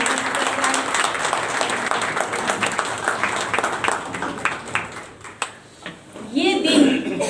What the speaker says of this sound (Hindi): एक बार इन दोनों के लिए जोरदार तालियों से स्वागत करते हैं।